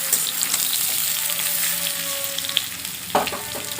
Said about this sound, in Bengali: আলু খুব ভালোভাবে ভাজা হয়ে গেছে লাল লাল করে।